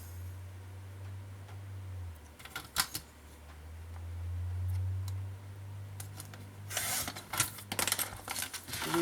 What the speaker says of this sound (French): Puis, je vais couper tout simplement.